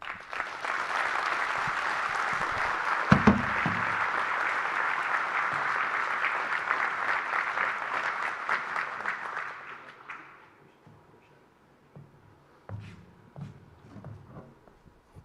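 An audience applauds at a chamber of commerce annual meeting in Cleveland, Bradley County, steady loud clapping for about ten seconds that then fades, leaving a few scattered claps and faint room noise.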